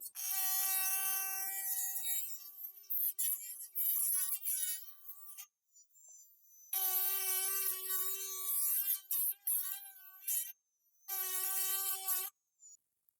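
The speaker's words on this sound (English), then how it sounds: "I'm going to do it with a Dremel tool." A Dremel rotary tool cutting the traces of a printed circuit board gives a high, thin whine that comes in several bursts, stopping and restarting with brief silent gaps between.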